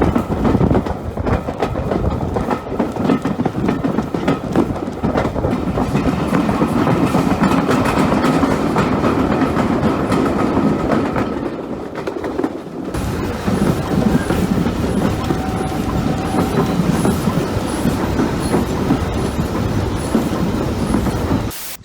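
Steady, loud rumble of a carriage on the Isle of Wight Steam Railway in motion, with rhythmic clickety-clack of wheels on rails and occasional faint squeals.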